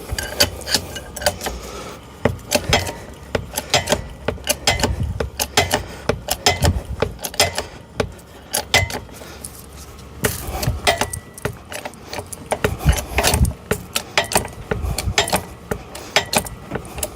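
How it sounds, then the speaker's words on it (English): A bottle jack is pumped to raise a low-profile hydraulic car ramp, giving close, repeated metallic clanks and ratcheting knocks in an uneven, rhythmic series, with occasional jangling and no talk. "So now we're going to jack this up."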